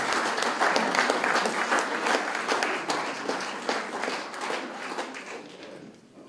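A school awards ceremony crowd gives pupils a round of steady, dense applause from many hands that gradually thins and fades out at the end.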